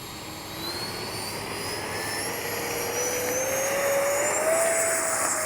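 An FMS Rafale 80mm RC jet flies past with a steady, loud ducted-fan whine, its pitch climbing slowly as it gains speed, sustained and unbroken from start to finish.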